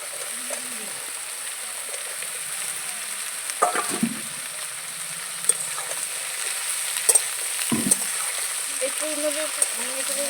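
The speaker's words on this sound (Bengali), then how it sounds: "সব কিছু ভালো করে একটু কষিয়ে নেব তারপরে ওই কুইমি দেবো" Pui (Malabar spinach) stems are fried and stirred with fried roe in a pan, with a continuous sizzle and occasional scraping strokes of a spatula, close by, while a voice speaks softly now and then.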